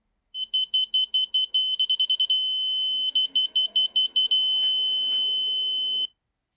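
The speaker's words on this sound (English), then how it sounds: "every time you need to hear the audible signal as a continuous beep" A construction laser level detector's high electronic beeper pulses in quick bursts, then holds a long unbroken tone, breaks into rapid beeps again, and settles into a steady continuous beep.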